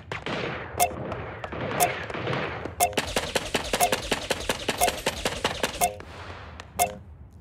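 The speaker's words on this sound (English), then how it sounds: "Fucking turrets, dude." Rapid bursts of automated turret fire in the video game Deceive Inc, loud and close, with a few single heavy shots at first, then a sustained run of evenly spaced crisp reports before isolated shots resume.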